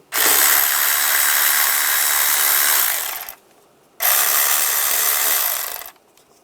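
A 10mm socket ratchet loosens worm clamps on the intake snorkel of a 1996-2002 Toyota 4Runner, giving two long, loud, steady bursts of close mechanical rasping separated by a short pause.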